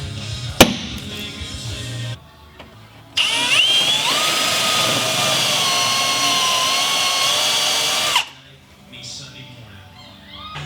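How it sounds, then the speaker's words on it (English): A drill cuts out spot welds on the cab corner of a Ford F250 truck, boring steadily for about five seconds with a sharp knock before it and quieter shop sounds after. "Another thing with cutting out these spot welds is you only want to cut through the front layer."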